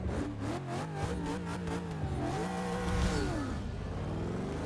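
A car fitted with a centrifugal supercharger launches hard in Forza 6, its engine note rising and shifting through gears in a continuous loud revving whine, alone without voices.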